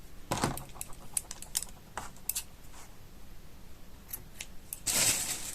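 Scissors snip off a loose crochet yarn tail on a lamb tablemat: a few crisp, close cuts, one near the start and one near the end, with light handling clicks in between.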